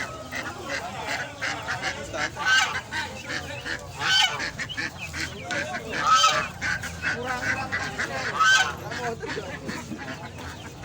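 Geese at Pasar Gawok market honk repeatedly in loud, overlapping bursts, close by, with market bustle and some voices mixed underneath.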